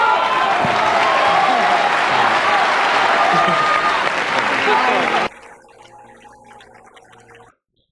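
A large festival audience applauds loudly and steadily for about five seconds, a dense wash of clapping that cuts off abruptly, leaving only a faint murmur.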